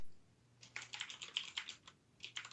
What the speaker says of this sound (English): I like my mechanical keyboard.